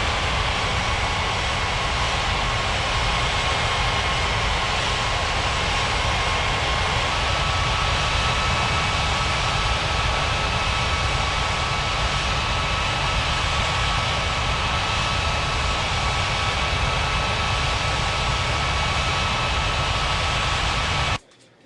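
A jet airliner taking off in an air traffic control game, its engines a constant loud roaring rush held for about twenty seconds before cutting off abruptly.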